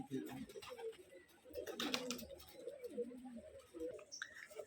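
Pigeons coo softly and repeatedly at a pigeon farm, low rounded calls overlapping with faint chirps, moderately near, with some background rustle.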